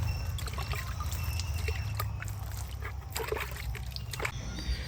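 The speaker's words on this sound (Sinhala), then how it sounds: "පැල ටික පැකට් කරලා ඉවර වෙලා වතුර ටිකක් දාගන්න." Water poured over freshly packed betel plant shoots, a steady trickling and splashing with scattered sharp droplet hits over a low background hum.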